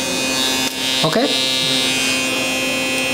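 An electric hair clipper buzzes steadily and close during a low fade haircut, its motor hum holding even throughout while a voice briefly speaks.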